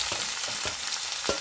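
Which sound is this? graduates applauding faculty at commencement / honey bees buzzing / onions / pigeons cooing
onions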